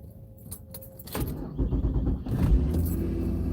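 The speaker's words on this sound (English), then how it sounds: "First, start the car. Oh yeah, it's gonna do that because it's too fucking cold." A year 2000 van cranks and starts in cold weather, keys jangling first, then the engine catching into a rough, rumbling idle up close.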